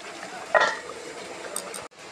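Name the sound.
chicken cooking in a pan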